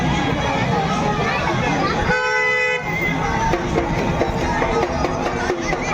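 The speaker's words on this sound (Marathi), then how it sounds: "बघा केवढी गर्दी झाली आहे इकडं" A large crowd gathers at a temple. A steady babble of many voices fills the clip, a vehicle horn sounds for about a second, and people talk nearby.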